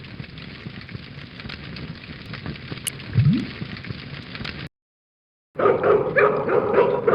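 A dog barks in the point-and-click adventure game Broken Sword 2: The Smoking Mirror (Remastered), set against steady rain-like game ambience. The sound cuts off briefly partway through, then returns louder.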